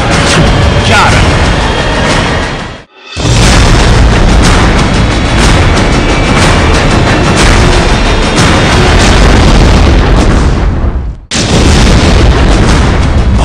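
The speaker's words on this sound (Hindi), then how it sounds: "भारतीय सैनिकों द्वारा पाकिस्तानी चौकियों पर तोपों से एक के बाद एक 11 धमाके" Artillery explosions hitting Pakistani army posts, a loud, continuous roaring barrage of blasts that breaks off twice into brief silence before resuming.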